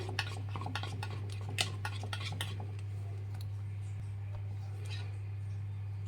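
A spoon scraping and clinking against a bowl as plum cake batter is mixed, quick close taps at first that thin out, over a steady low hum.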